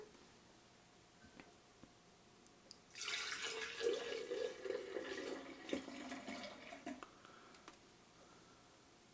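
Liquid yeast poured from a vessel into a glass mason jar, a steady splashing trickle starting partway through and running for several seconds, fairly quiet and close, with no voices.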